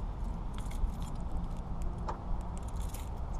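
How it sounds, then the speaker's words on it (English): Keys jangle in a steady metallic rattle while a car is locked in a big-city parking lot, with a low outdoor rumble running underneath. "I have to lock my car"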